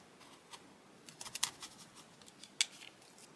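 Scissors cutting fabric for a zipper pouch, heard as a few quiet close snips and crisp blade closures, one clear cut standing out late, against a faint room background.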